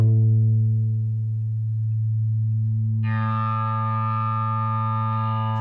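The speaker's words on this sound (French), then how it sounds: "Il s'agit en fait d'un effet Larsen en plaçant sa guitare contre son ampli." Electric guitar feedback opening a 1964 song, made by holding the guitar against its amplifier: a steady low sustained tone that suddenly brightens into a buzzing, overtone-rich drone partway through, alone and loud.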